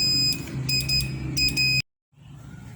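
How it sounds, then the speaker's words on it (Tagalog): An electronic buzzer on a Morse code encoder/decoder circuit, switched on, sounds in short bursts of high tone with a steady hum beneath, then cuts to silence before a quieter hum returns. "So this is the on and off switch of the buzzer."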